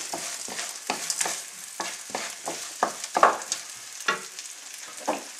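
Frozen peas stir-fried over high heat in a pan for Cantonese fried rice, steady sizzling broken by repeated rhythmic scraping strokes of the spatula, close and fairly loud.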